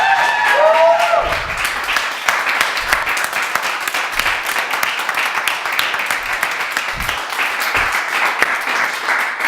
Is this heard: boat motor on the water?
no